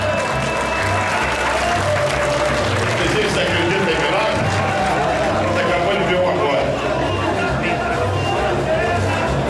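Audience clapping at a carnival samba school parade-order draw, dense sustained applause from a large crowd with an announcer talking over it throughout.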